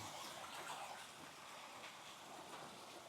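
A rainy-season mountain waterfall beside a road sends up a steady, faint broadband wash of falling water, distant and unbroken, with no voices.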